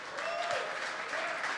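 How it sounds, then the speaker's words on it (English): Studio audience clapping steadily for a guest on a live show, a short burst of dense applause at moderate level with no voices over it. "keep those claps coming for Romeo"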